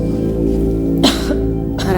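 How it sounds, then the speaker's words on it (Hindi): A brief cough or throat clear breaks through a steady background of music, with a second smaller burst near the end of a doctor's examination scene. "फिक्र मत कीजिए, मामूली खांसी है"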